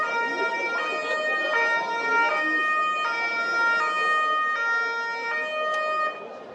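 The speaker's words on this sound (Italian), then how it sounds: "Il silenzio dopo la rissa è stato squarciato dalle sirene della polizia e delle ambulanze del SUAM." Emergency vehicle sirens, police and SUAM ambulances, wail steadily in a street after a fight, a loud, continuous rising-and-falling tone with repeating cycles.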